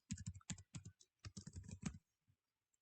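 A login password goes in on a computer keyboard as a quick, close run of key clicks in small irregular bursts, then stops. No voices.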